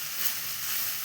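Idli upma sizzling in a pan as it is stirred, a brief, even, close frying hiss with no voices.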